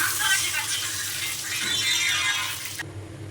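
Water is poured into hot oil seasoned with nigella seeds and green chillies in a pan after frying hilsa, giving a loud, close rushing hiss and splash that runs steadily for about three seconds.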